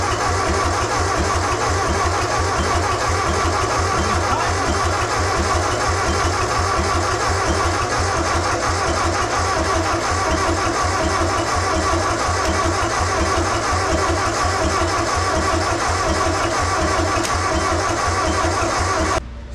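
An old Ford tractor engine cranks over continuously on 12 volts, a steady loud rhythmic churning that keeps going without catching fully, running alone the whole time.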